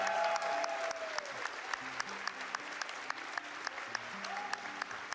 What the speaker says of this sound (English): Can we get one more round of applause for the devs as well